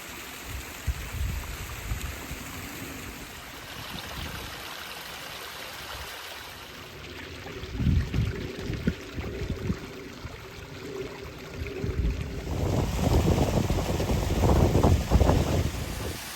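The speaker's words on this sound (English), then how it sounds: "Here we are, directly above the waterfall." Steady rushing water of a waterfall at Hollingworth Clough, heard from directly above, with a broad, continuous roar, growing louder and rougher toward the end, mixed with some gusty wind noise.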